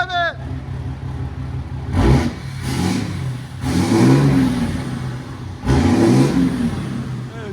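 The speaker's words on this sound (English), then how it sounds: "Give me gas. Rev it." A 2015 RAM 3500 with a 6.7L Cummins diesel and 4-inch straight pipes revs loudly and close by in several deep, swelling bursts over a steady idle rumble, with voices talking between the revs.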